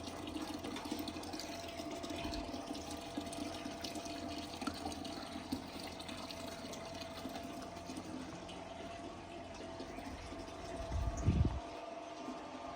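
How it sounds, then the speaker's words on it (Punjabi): Dishes being washed under running water, likely at an outdoor village tap, with a steady wash of flowing water throughout and a brief louder splash or clatter near the end. "ਇੱਧਰ ਜੀ ਬੈਠੇ ਆ ਕੁਛ ਬਰਤਨ ਧੋ ਰਹੇ ਆ।"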